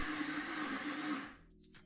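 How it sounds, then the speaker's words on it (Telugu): A mixer grinder whirs loudly, close up, as it grinds soaked urad dal into a smooth paste for idli batter, then shuts off after about a second and a half and winds down quickly. "ఇప్పుడు ఒక మిక్సీ జార్ని తీసుకొని మినపప్పును వేసుకొని మెత్తటి పేస్ట్ లాగా చేసుకోవాలి"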